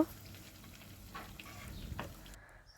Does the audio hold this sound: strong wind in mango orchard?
no